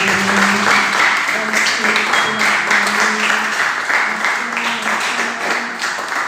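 Congregation at a prayer service clapping and cheering together, a dense wash of applause mixed with raised voices and shouts that carries on steadily and fades slightly at the end.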